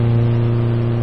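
A car engine revs steadily and loudly in a stickman video game, a constant drone with no talk over it.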